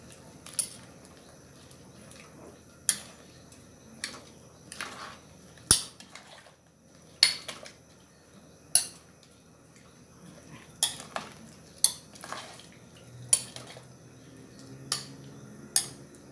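Eggplant going into a simmering curry pot, heard as soft, faint clinks and taps of utensils against the pot every second or so over a quiet bubbling background, with no talking.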